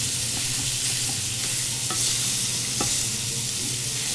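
Italian sausage browns and sizzles in a hot pan, a steady close crackling hiss with a few sharp clicks as the meat is broken up and stirred.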